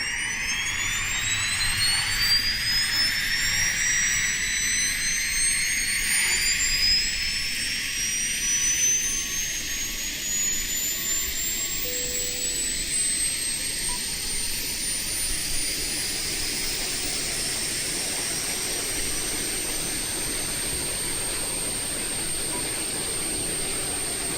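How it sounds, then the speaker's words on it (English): Embraer E170 auxiliary power unit running in a flight simulator game, a rising turbine whine spooling up over a broad steady roar, continuous and loud. "That's about as real as they come as far as APU sounds."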